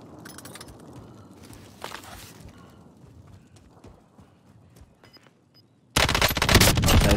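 Gunfire in Call of Duty Warzone, solos match in Verdansk: scattered faint shots and clatter, then a loud sustained burst of rapid automatic fire near the end.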